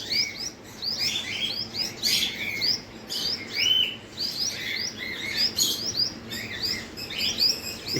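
Many small birds chirp and tweet in quick, overlapping bursts, a busy high-pitched chorus with no talking.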